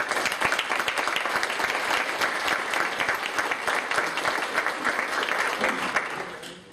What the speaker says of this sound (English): Well, that's a nice round of applause to start